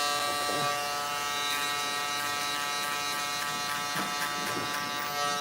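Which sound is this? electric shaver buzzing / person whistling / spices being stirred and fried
electric shaver buzzing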